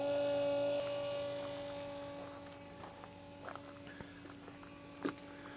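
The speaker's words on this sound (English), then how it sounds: "I'm going to turn the macerator pump on." A Latch.it RV macerator pump running while emptying a black waste tank, a steady low electric hum with a few soft knocks and clicks over it.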